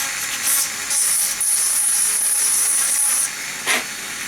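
Power drill boring into a part for an X-Wing model build, a steady high-pitched whine running for about two seconds between brief bursts, loud and close with no talking.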